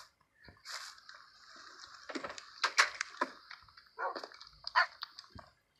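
Tamed Minecraft wolves bark and whimper while following the player, several short yappy barks in an uneven run, fairly close, with brief whines between them and no talking.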